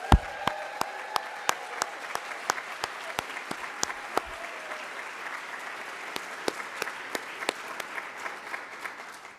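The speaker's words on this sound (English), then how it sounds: "get those clapping hands ready" Sparse, widely spaced claps in a hall during a college outstanding colleague awards ceremony, sharp individual hits over a faint hum, lasting throughout at moderate distance.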